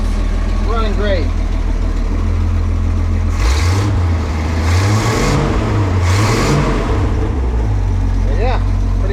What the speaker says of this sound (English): running for a minute or two, turned a couple screws, running great.